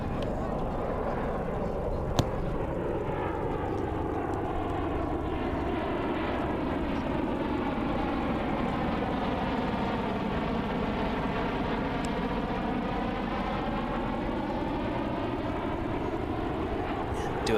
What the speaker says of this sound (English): There's the Osprey.